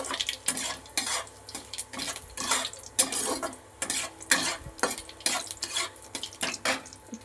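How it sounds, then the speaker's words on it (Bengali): A utensil repeatedly stirs a black cumin, bay leaf and dried chilli tempering in a hot pan, giving rhythmic scraping strokes over a soft sizzle of oil, close and fairly loud with no talking. "দেখো কালো জিরে ফোড়ন দিয়ে দিচ্ছি, এটা একটুখানি নেড়ে নিচ্ছি।"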